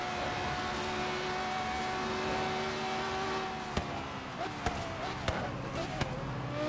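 A Lexus LFA in a Forza racing game drones with a steady, even engine tone at highway speed, broken near the end by a few sharp thuds.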